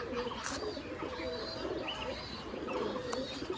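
Giribaz pigeons coo softly in overlapping low calls against a steady busy background, with occasional faint chirps and a continuous murmur throughout.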